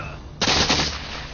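Musket gunfire from a Revolutionary War battle, a sudden sharp report that breaks out of quiet and rolls into a brief crackling burst, loud and close.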